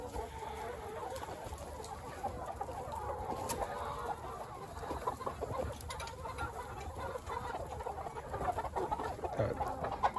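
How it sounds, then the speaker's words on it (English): Hundreds of chickens cluck continuously inside a greenhouse coop holding about 500 birds, a dense, busy flock chorus that stays steady throughout, with a few louder individual calls standing out near the end. "there's 500 birds in here."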